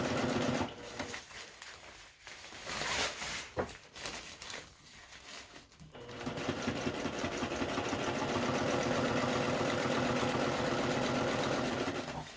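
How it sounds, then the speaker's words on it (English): A sewing machine double-stitches the seam of a single-wall DIY tent, starting in short uneven bursts and then running in a steady, continuous close-up whir for the second half. "This is actually the double stitch that she's installing now."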